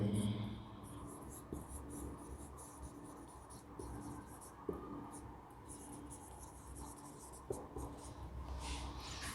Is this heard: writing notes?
yes